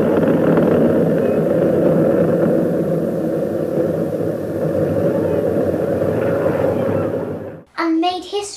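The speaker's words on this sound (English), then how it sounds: "solid motor ignition and liftoff. Liftoff of Challenger and the first flight to repair a satellite in space." Space Shuttle Challenger climbs after liftoff on a satellite repair mission, a loud, deep, continuous roaring rumble that dominates for several seconds before cutting off abruptly into brief voices.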